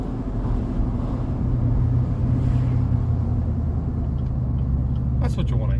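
A Chevrolet Silverado 1500 fitted with a Walkinshaw full exhaust system accelerates with a deep, steady engine rumble under people talking.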